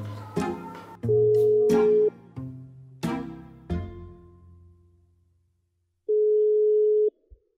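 A steady electronic ringback tone of an unanswered outgoing phone call sounds twice, about a second each, separated by a long pause, with some clattering handling noises near the start.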